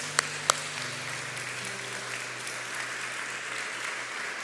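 A church congregation applauds, a sustained, even wash of clapping with a couple of sharp louder claps near the start, over a low hum.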